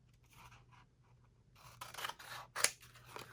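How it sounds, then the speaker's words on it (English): Scissors snipping through paper or card while grungy cluster bases and pockets are made, a few short crisp cuts close by, with one sharp louder snip near the end. "We're just going to do the scissors."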